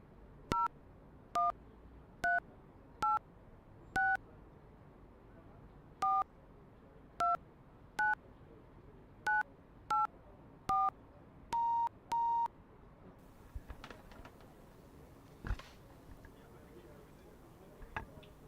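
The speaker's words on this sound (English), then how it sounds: "I'll dial down and then dial up again." A sequence of telephone keypad dialing tones, about a dozen short evenly spaced two-tone beeps followed by a couple of longer tones, heard during a cricket broadcast setup, with faint background noise afterward.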